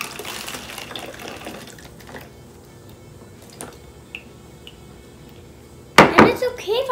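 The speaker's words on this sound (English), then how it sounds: "And time to pour the vinegar." Vinegar trickles and splashes through a funnel into an empty bottle during a kids' baking soda and vinegar balloon experiment. The pour is close and soft, and a sharper burst of sloshing comes near the end.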